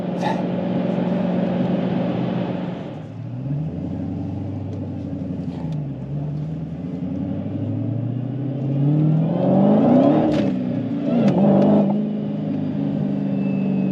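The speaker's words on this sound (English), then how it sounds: "Can hear that whine when you get on it" A manual Dodge Challenger Hellcat V8 revs and pulls through rising and falling gears, a loud engine roar with a sweeping high whine climbing under acceleration, heard from inside the car without talk.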